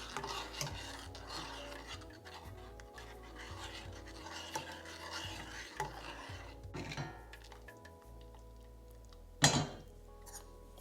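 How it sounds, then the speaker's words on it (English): Spoon scraping and rubbing around a pot of melting chocolate on low gas heat, making a steady close rasping stir with a sharper clink near the end, no talking. "Just stir until the chocolate is melted"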